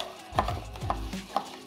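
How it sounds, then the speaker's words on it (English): A spoon churning crushed ice in a cup while a Georgia Peach Julep is mixed, three gritty scraping strokes with light rattling clinks, close and fairly quiet, with no talk. "start giving this a good churn to get all those ingredients mixed together and diluted"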